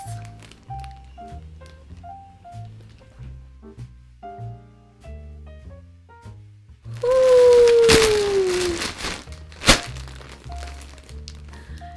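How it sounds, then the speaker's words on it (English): A PrettyLittleThing clothing package box is opened with loud crinkling, tearing and rustling of packaging, with a sharp thunk near the end. Music plays underneath and no one speaks. "let's go ahead and open the box."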